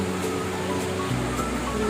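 Hinulugang Taktak waterfall in Antipolo, a constant broad roar of falling water that stays steady and fills the whole scene, heard alone without talk.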